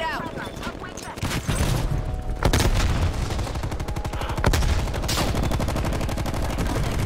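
Rapid automatic fire from the XM4 rifle in the video game Black Ops Cold War: dense, loud, continuous bursts that keep going nearly the whole time, with a brief lull early on.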